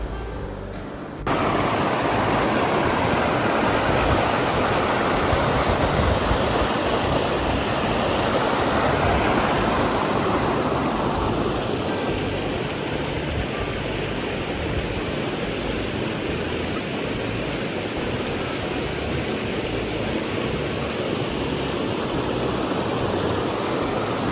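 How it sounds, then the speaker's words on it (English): A creek in Cades Cove rushes with a strong, steady flow, a loud continuous broadband roar close by that begins abruptly and holds unbroken with no voices. "down here's the water, the creek where you have to cross"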